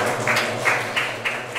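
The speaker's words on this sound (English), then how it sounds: "give applause for our friends" Sparse, intermittent clapping from a small group in a physics classroom, a few separated bursts of claps in quick succession.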